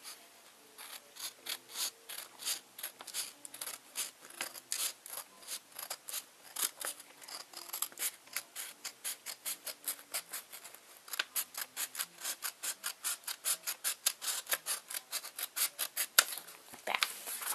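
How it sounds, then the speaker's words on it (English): Scissors snip through a folded sheet of paper, cutting it in half for a paper heart wreath: a long run of quick, crisp, rhythmic snips and rustles, close and steady, with no one talking. "you want to cut this piece of folded in half paper in half"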